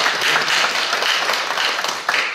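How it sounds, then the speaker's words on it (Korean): An audience applauds at the final of a national university reading-debate contest, giving dense, continuous clapping that stays fairly loud and even throughout, with no voices over it. "박수 한번 주시죠."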